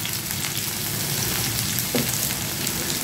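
Whole peanuts fry in hot oil for bread bhelpuri, a loud, dense, continuous close sizzle with a brief stirring scrape partway through.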